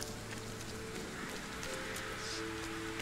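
Steady rain hiss in the video game RIME, a continuous even wash of falling water with faint tonal ambience underneath, no voices.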